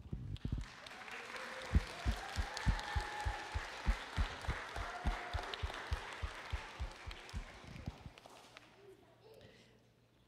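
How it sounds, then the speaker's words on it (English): A church audience at a Vacation Bible School program gives the volunteers a round of applause. The clapping swells, holds as strong rhythmic beats close to the microphone, then fades out near the end. "let's give them a round of applause"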